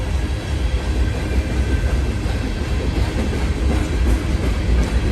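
An empty Union Pacific coal train of hopper cars rolls past close by, giving a loud, continuous low rumble with rattling wheel and car clatter that stays steady throughout, and no voices.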